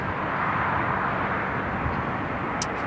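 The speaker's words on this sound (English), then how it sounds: "it's a practice low approach and go around" An Italian Air Force C-27J transport plane makes a low approach and go-around at Newcastle International Airport, a steady broad engine roar and rush heard from a distance without interruption.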